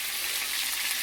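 Potatoes turning golden brown in a pan with garlic just tossed in, giving a steady, even sizzle that holds throughout with no voices.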